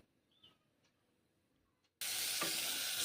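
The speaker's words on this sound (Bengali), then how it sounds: "ভেজে নিচ্ছি করলাগুলো, একদম প্লেন ভাজা করলা ভাজা" Bitter gourd (karela) slices hit hot oil in a wok for plain frying: two seconds of near silence, then an abrupt, loud, steady sizzle that holds to the end.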